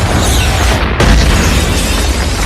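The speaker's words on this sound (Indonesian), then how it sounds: "para tentara itu pun meledakkan gedung" In the 2001 film B.E.L, soldiers blow up a building, heard as a loud, dense roaring boom that fills the whole clip, with a sharper burst near the one-second mark and no talk.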